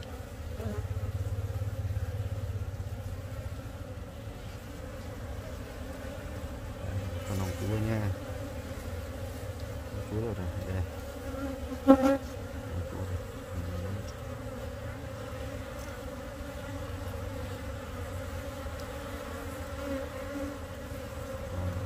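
A honey bee colony in an opened hive gives a steady, close drone of buzzing throughout, with a few individual bees zipping past nearby and someone speaking quietly now and then.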